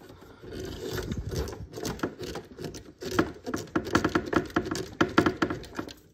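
A screw is driven slowly into a KITT model kit from Knight Rider, heard up close as irregular small clicks, creaks and scraping ticks that grow denser toward the end, fairly quiet, with no talk.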